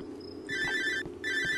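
A telephone ringtone sounds inside a horror video game, two bursts of bright electronic tones separated by a short pause, loud and clear with no talk over it.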